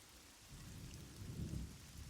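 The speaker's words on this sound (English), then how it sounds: "I mean rain sound." Rain and thunder played as background ambience: a soft steady hiss of rainfall with a low rolling rumble of thunder swelling in the middle, faint and distant.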